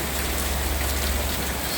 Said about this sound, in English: This is what it's like getting caught in a serious rainstorm in New England.